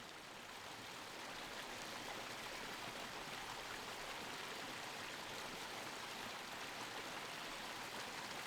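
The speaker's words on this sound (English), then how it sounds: "We had that creek for cover noise" A mountain creek at the bottom of a drainage in elk country flows in a steady, broad rushing wash, unbroken and even throughout, with no voices.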